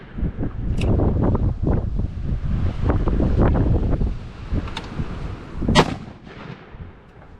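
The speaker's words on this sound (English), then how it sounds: "Dang wind's about to blow me clear it over in Lawrence County" Strong wind buffeting a microphone at an outdoor range while zeroing a .41 Magnum Blackhawk revolver, loud continuous rumbling gusts that swell and fade.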